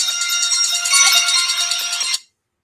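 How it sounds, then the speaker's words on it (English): A phone ringtone plays a bright, steady electronic melody for about two seconds, then cuts off abruptly into silence. "That's my ringtone."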